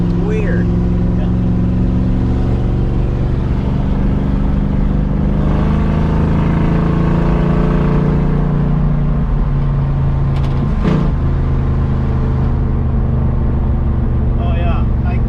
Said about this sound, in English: it seems like it has 3 speeds because the torque converter pitch changes